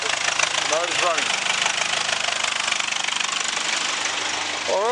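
A Nissan Navara D40 with the YD25 2.5-litre turbo diesel runs steadily at idle in an auto parts yard, its engine a continuous close rumble with a faint knock beneath voices talking and a few brief squeaks.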